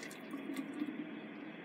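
Power drink pours into a 2-liter jug, a soft steady liquid stream and trickle, faint and continuous throughout.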